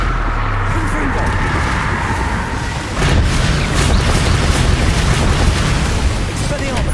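Confringo fire spell exploding in Hogwarts Legacy, a loud booming burst followed by a dense rumbling roar that holds steady and close, with battle clatter layered on top.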